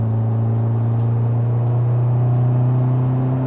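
Mitsubishi Evo X with an upgraded turbo pulling flat out uphill in third gear, a loud, steady engine drone and whir held under load from inside the car, no voices.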